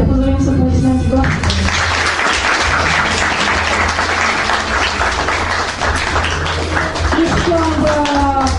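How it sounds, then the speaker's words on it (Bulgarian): An audience claps for guests at a commemorative event, sustained applause swelling after a brief spoken lead-in and continuing steadily to the end, with a voice heard briefly at the start and end. "Хайде да поздравим с аплодисменти Господа"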